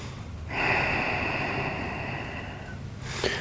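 A single long, audible breath drawn in and let out during a yoga hip stretch, close and steady, ending with a short sniff, no talking.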